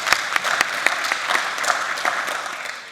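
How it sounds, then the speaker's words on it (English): A modest audience at a panel on gender-based violence claps for a speaker taking the floor, a short burst of distinct individual claps that thins out and fades within a few seconds. "he needs some applause as well, of course"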